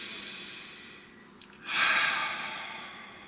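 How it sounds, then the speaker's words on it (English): A single deep breath, a sharp brief inhale followed by a longer, louder airy exhale, close and alone in a quiet room, with no talking. "Nice, deep breath."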